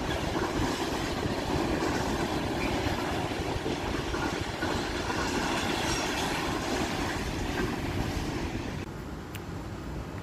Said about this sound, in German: hier auf Gleis 1 fährt durch eine Boxpress Vectron mit einem Container-Ganzzug von Norden Richtung Süden